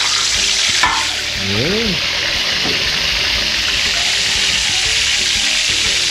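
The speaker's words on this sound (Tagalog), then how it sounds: "So magpiprito tayo ng tilapia." Salted tilapia fish fries in a pan with a steady, loud sizzle and crackle, with a brief voice speaking over it near the start.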